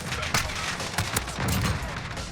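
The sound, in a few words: Odin rifle gunfire in a video game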